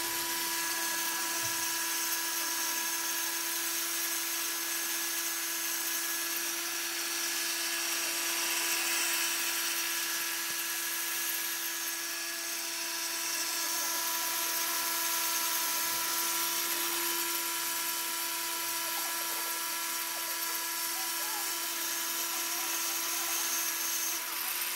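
An angle grinder with a cutting disc whines at a high, constant pitch while cutting corners, running loud and unbroken for the whole stretch with no talking.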